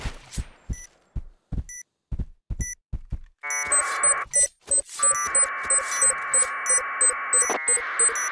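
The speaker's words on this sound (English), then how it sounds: "Bomb defused." Electronic beeps and buzzer tones from a competitive first-person shooter match, spaced pulses giving way to a sustained loud buzzing tone with stuttering beeps over it, signalling a bomb defusal, with no talking.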